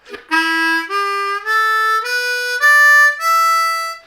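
Harmonica plays a rising minor pentatonic scale of six sustained notes one after another, steady and close, with no voices.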